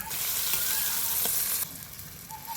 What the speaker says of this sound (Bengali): ঢেঁড়স ভাজাটা বসিয়ে দিয়েছিলাম, সুন্দর করে ভাজা হয়ে গেছে